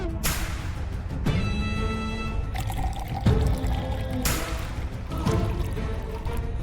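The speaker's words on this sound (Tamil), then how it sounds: "நாங்க இந்த சரக்கா ஊத்துறோம்." Liquor poured into a glass during a drinking scene, a few short gurgling pours and clinks against a busy background, near and moderately loud.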